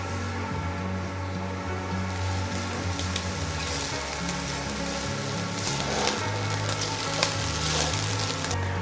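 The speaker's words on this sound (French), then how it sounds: "Un fond d'huile d'olive, les oignons, un petit peu d'ail piqué." Onions and a little chopped garlic frying in olive oil for a vegetable mirepoix, giving a dense, continuous sizzle and crackle that stays close and even throughout, with no talking.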